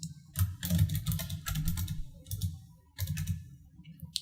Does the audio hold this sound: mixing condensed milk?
no